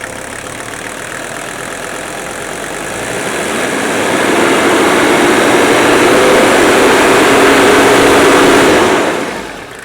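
Engine of a 1983 Mercedes with a rod nut fault, idling and then climbing to a louder, higher steady revving for several seconds before dropping back, heard close with no talking.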